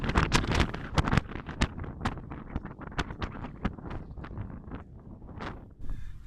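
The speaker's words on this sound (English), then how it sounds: "It's crazy windy outside," Strong gusting wind on the west coast, heavy buffeting bursts hitting the microphone in rapid irregular blasts, loud and close, easing slightly toward the end.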